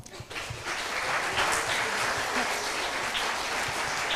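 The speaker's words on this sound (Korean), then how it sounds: "착석해 주시기 바라며 큰 박수 부탁드립니다" Applause from an audience at a Korean-Japanese high school sister-school anniversary ceremony, a steady, full crowd clapping sustained evenly throughout, with no voices over it.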